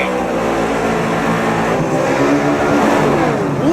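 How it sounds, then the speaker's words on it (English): Loud, continuous revving of Chevy and Ford drag race cars at a street eliminator final, engines roaring steadily with rising pitch sweeps toward the end, no talk. "Listen to the Chevys and the Fords."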